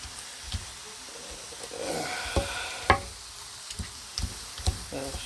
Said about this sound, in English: I am doing the stew. I'm not going to show you the cooking of this. You can hear it sizzle.